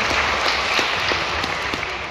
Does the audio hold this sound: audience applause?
yes